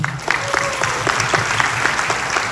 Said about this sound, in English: Let's give Kenneth a round of applause.